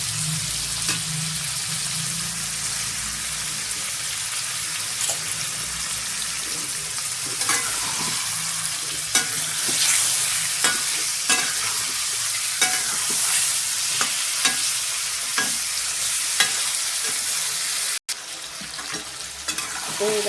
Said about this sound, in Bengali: তো এরকম আমি কিছুক্ষণ ভাজা করে নেব, যতক্ষণ না চিকেনের জলটা মরে যায়।